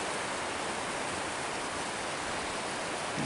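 Waterfall on the Salmon River trail in Pulaski, New York, a steady, even hiss of falling water, faint but unbroken, with no voices.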